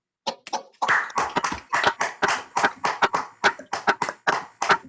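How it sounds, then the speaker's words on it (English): A seminar audience claps over Zoom: a burst of uneven, close hand claps from a few people, irregular and slightly clipped, lasting several seconds. "do we start clapping now"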